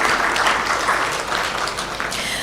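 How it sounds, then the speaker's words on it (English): At a contractors symposium opening ceremony, the audience breaks into sustained, even applause, many hands clapping close together in a dense, steady patter with a few louder claps rising above it. "give him a round of applause"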